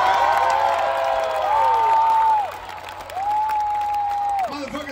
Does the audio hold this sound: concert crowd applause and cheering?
yes